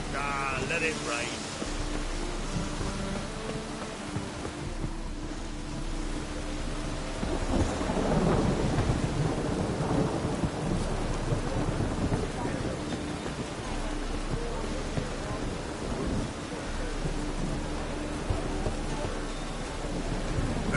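Steady heavy rain with rolling thunder in the game The Witcher 3: Wild Hunt, played on PS4. Deep rumbles swell and fade over the constant downpour, with wind and a voice talking at times.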